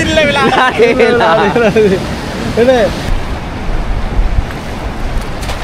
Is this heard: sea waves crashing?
yes